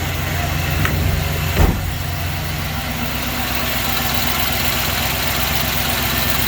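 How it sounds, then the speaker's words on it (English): A truck engine idles steadily just after starting, with a light lifter tick in its running. The idle stays close and even, with one brief louder bump early on and no talk over it. "Your little lifter tick going on."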